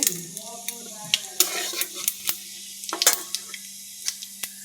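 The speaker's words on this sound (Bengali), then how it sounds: "মাছ ভাজা তেলে দিয়ে দিলাম জিরে" Cumin seeds dropped into hot oil left from frying fish sizzle steadily, with a hiss running under sharp scattered clicks and spoon-against-pan taps, close and fairly quiet.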